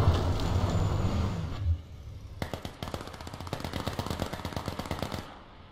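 Rapid automatic gunfire in the H1Z1 King of the Kill test server as players try a new weapon, a sustained burst of sharp, evenly spaced shots after a short stretch of engine-like rumble.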